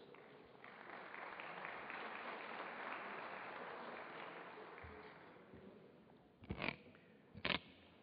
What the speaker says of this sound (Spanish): les pido recibir con un aplauso a Virgilio Hernández